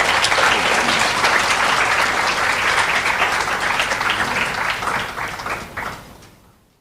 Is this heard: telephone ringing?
no